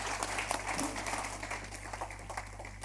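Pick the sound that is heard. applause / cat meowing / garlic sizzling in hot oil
applause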